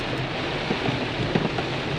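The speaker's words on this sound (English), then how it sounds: "It is pouring down" Heavy rain pouring down on a farm: a dense, loud, continuous hiss of rainfall with scattered louder splashes, steady throughout and without voices.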